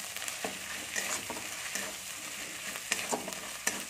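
Ginger fries softly in a pan with a quiet sizzle, broken by a few sharp spatula scrapes and taps at irregular intervals.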